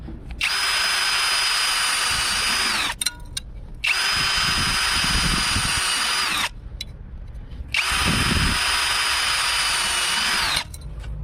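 A cordless 20 V impact drill-driver, model 8905K, bores through 1.5 mm metal with a 4 mm bit in three long, loud whining bursts, each starting and winding down, with brief pauses between.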